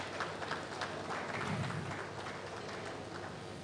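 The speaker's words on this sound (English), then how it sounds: "a round of applause for him." A round of applause for a company chairman at a report unveiling event in West Africa, heard as a faint, even wash of clapping at a distance, steady throughout with no voices.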